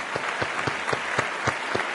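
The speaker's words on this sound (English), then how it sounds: "Give him an applause." Audience applause at a lecture gathering, steady clapping with distinct claps recurring in a loose rhythm, moderately loud and without talk.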